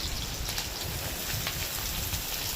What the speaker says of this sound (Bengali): একটু ভেজে নিয়ে এর মধ্যে দিয়ে দিচ্ছি পেঁয়াজ কুচি